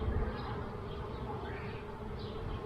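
Honey bees buzz steadily around an opened mini urban beehive during an inspection, a continuous close hum with small swells and no clear talk.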